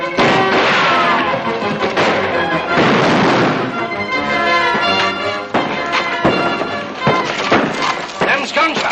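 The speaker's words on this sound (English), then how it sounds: "Them's gunshots." Gunfire in a 1941 western feature film, a dense run of sharp cracks and bangs over a busy background of music and effects, loud throughout the clip.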